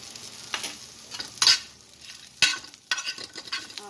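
Green chilies frying slowly in a pan for a surmai fish dish, a soft background sizzle broken by several sharp scrapes and stirs of a spatula against the pan, close by.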